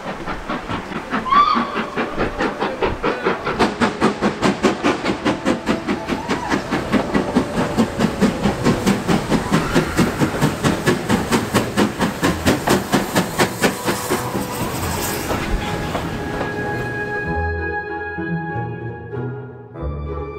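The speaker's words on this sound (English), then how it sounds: "You can hear the steam engine." A steam locomotive approaches and passes Hogsmeade Station in the Yorkshire Dales, its rapid rhythmic chuffing loud and close for most of the run, steady hissing steam throughout, and a sustained whistle-like tone near the end.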